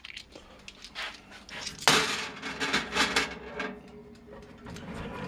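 Small Meccano brass parts clatter and clink as they are set into a benchtop oven, with a sharp metallic knock partway through, then a run of lighter rattles and taps that fade toward a quiet hum.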